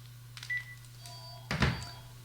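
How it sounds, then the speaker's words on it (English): A mobile phone being switched off gives a short, close electronic beep, followed about a second later by a louder burst of tones and clicks, over a steady low hum. "I'll just turn this phone off."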